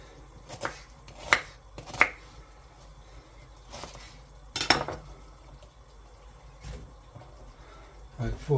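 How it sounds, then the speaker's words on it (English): Onion being roughly chopped on a board for a blended tomato sauce, a handful of sharp knife strikes spaced irregularly, loudest in a brief cluster midway, with faint kitchen background between cuts. "So just roughly chop this onion."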